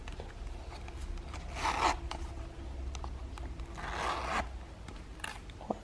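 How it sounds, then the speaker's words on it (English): A zipper on a compartment of a small Louis Vuitton leather goods piece is drawn twice, each pull a short close scratchy rasp against a soft background hiss. "a zipper"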